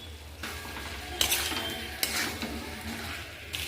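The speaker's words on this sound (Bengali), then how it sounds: "সমস্ত মশলাগুলো আলুর সঙ্গে ভালোভাবে কষিয়ে নেব" A spatula works potatoes and cauliflower with spices in a pan, giving a soft sizzle under a few bursts of scraping and stirring, fairly quiet and close.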